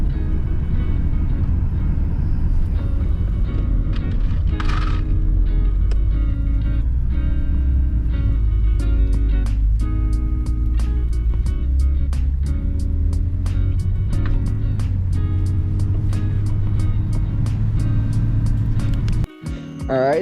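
A Toyota Cressida with about 65,000 miles idles steadily after a fuel pump replacement, a continuous low engine hum with faint surging and some rattles, and it cuts off abruptly near the end.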